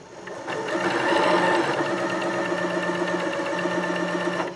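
A Janome sewing machine fitted with a pintuck foot stitches pintucks in a steady, continuous run, its fast mechanical chatter close and clear from start to finish with no talking.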